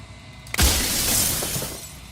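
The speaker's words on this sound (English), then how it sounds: "the loudest glass breaking sound" Glass shatters loudly in the video game Slay the Princess, a sudden sharp crash followed by a bright, spreading tinkle of shards that fades over about a second and a half.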